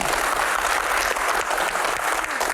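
Applause from an audience at a Q&A session, a dense, loud wash of clapping hands that carries on evenly through the whole short stretch.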